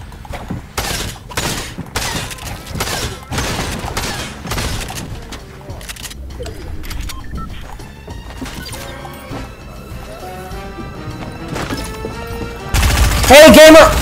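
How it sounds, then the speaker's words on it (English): Shotgun blasts from a video game, a burst of loud repeated shots early on, then quieter game sounds and a final heavy crash, with voices talking over the action. "He's got a damn shotgun."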